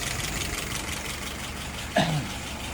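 Harley-Davidson engine idling steadily at about 680 rpm, a close low rumble with an even throb, broken near the end by a brief sharp squeak or mechanical chirp.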